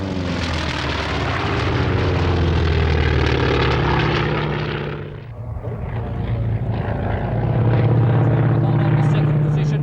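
A T-28 trainer with a big radial engine flies past at an airshow, a loud, deep propeller roar that swells, dips briefly as it passes, then builds again.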